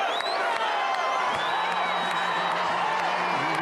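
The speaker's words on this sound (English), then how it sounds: "All to thunderous applause." Crowd cheering and applause at Donald Trump's presidential inauguration in Washington, D.C., a steady dense wash of shouts, whoops and clapping that fills the whole stretch at a fairly distant, even level.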